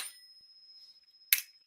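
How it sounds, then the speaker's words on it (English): Desk thumps set off a phone's bells: a thin, sustained high ring that fades, then a sharp hit that makes the bell ring again, close and fairly quiet. "me hitting my desk makes the bells ring on my phone"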